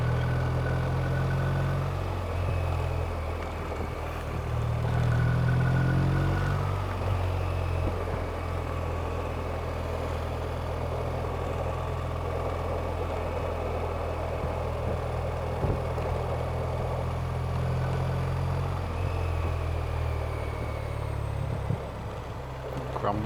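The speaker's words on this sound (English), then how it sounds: "Just get a little pop off that exhaust" Steady low engine rumble with a faint hum from a BMW R1250RS motorcycle, continuing evenly for a long stretch, with occasional small exhaust pops.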